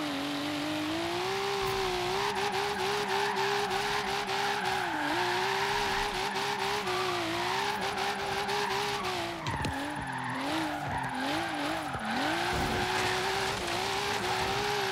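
A Volvo 850 R with a swapped engine drifts in Forza Horizon 3, its loud, steady engine note rising and dipping with throttle over continuous tire squeal and skidding, with no talk.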